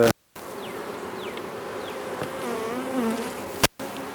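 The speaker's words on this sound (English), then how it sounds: "There's a big gob of bees on top of the lid" Honey bees buzz around a backyard beehive with a large cluster gathered on the lid, a dense, continuous close drone with individual bees swooping past the ear, heard alone without talk.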